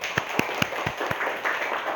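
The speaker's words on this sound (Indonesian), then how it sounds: "tepuk tangan buat Mbak Yaslin" A small class of young students in an Indonesian religious lesson gives a short round of scattered clapping, a handful of distinct claps followed by softer, uneven patter at a modest distance.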